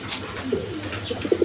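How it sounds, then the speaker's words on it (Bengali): Lahori Sirazi pigeons cooing in a loft, soft low throaty coos repeating several times at close range over a faint background hiss. "দর্শক এইখানে এক পেয়ার আপনার সিরাজি লাহোরি আছে, ডিম সহ নিতে পারবেন।"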